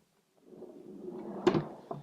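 A workshop drawer that holds Forstner bits and plug cutters slides with a soft, quiet rumble, ending in a sharp knock and a lighter second tap as it closes, with no one talking.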